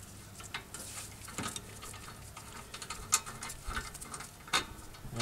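A slide pin bolt being worked free from a rear brake caliper on a 2001 Toyota Avalon, giving faint, close metallic ticks and small clicks scattered over a low background.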